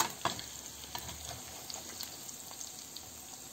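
Fried shrimp being stirred into a pot of shrimp, fish, mushroom and vegetable soup: quiet wet sizzling and scraping with a few light clinks of the utensil against the pot, fairly close and without talk.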